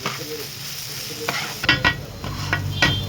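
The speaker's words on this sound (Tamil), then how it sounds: "ஆரம்பத்தில் எல்லாம் மிக்ஸ் ஆகுறது வரை இந்த மாதிரி ரஃப்பாக கிண்டி விடணும்." Beef kothu parotta with onion, tomato and masala is stirred and chopped on a hot pan, with a soft sizzle beneath a run of sharp metal clacks from the spatula.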